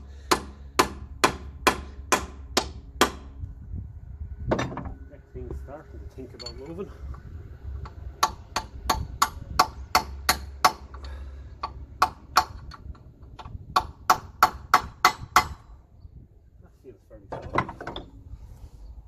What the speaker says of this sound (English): So I might just hit it a few dunts with a plastic hammer